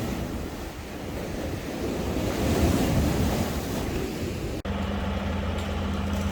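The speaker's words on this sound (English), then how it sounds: "A final view now of all the sea spray from the Irish Sea" Waves and sea spray from the Irish Sea roar steadily in strong wind, a broad continuous wash with heavy wind buffeting on the microphone, briefly cut near the end.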